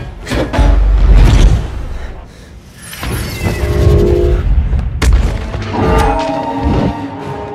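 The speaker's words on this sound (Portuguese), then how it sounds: "até hoje eu tô tentando entender como que um velocista como Mercúrio tomou um tiro" Loud booms and sharp cracks burst out in an Avengers: Age of Ultron action scene, a chaotic run of gunfire-like impacts and crashes with heavy rumbling between them.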